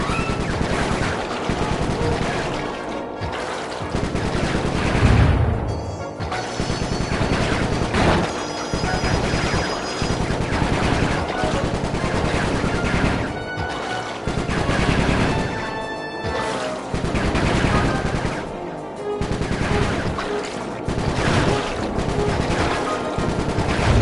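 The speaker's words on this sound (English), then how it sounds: "Nice shooting, Bentley." Gunfire in the video game Sly 3: Honor Among Thieves, dense continuous machine-gun bursts with crashes and booms over a busy game soundtrack, loud and sustained with brief pauses between volleys.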